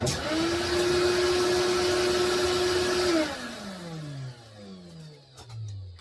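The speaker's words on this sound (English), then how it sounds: "I have a remote system where I can turn on my vac." A shop dust collection vacuum runs steadily and loudly, its motor whine holding one pitch, then it switches off and winds down with a falling tone over the last few seconds.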